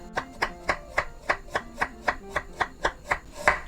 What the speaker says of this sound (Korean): 생강은 얇게 편으로 썰겠습니다